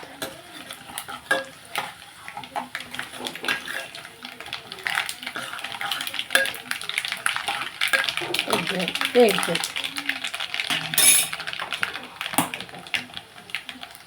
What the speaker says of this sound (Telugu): ఇదిగోండి పప్పు తాలింపు వేసేస్తున్నాను